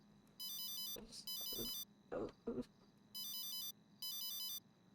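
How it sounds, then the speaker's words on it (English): A mobile phone ringtone plays in repeated bursts of bright electronic tones with short gaps between them, while a person speaks briefly between the rings. "I'm gonna turn my phone off."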